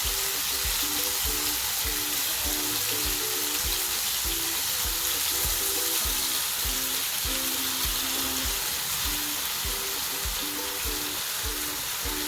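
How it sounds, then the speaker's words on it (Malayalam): Mackerel fries in hot oil in a Kerala home kitchen, giving a steady, loud sizzle with crackling pops and faint rhythmic clicks throughout, with no voices. "ഇങ്ങനെ നമുക്ക് ഈ അയിലയൊന്ന് ഈ എണ്ണയിൽ ഫ്രൈ ചെയ്തെടുക്കാം"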